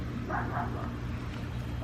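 A pet dog named Louis barks repeatedly in a tropical backyard, the yips and bow-wows sounding moderately distant over a steady low hum of outdoor background noise.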